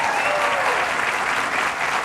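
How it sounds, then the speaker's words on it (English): Audience applause at a high school tennis courts dedication ceremony, a dense, steady burst of outdoor clapping from a sizable crowd, loud and continuous over a short stretch. "Round of applause."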